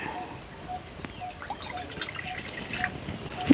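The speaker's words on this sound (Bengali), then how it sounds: "ওই কড়ার মধ্যে অল্প করে জল দিয়ে দিচ্ছি।" Water trickles softly into a wok set on a lit stove while a sweet is being made from bread. The pour is faint and steady, mixed with light dripping and low kitchen background noise.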